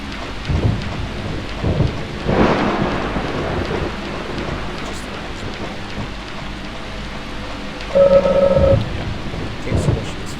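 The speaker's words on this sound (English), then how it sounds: "The path might be blocked from the rain." Steady heavy rain with low rolling rumbles of thunder fills a foggy outdoor scene in the video game Deadly Premonition Origins, loud and continuous, with a brief electronic beeping tone near the end.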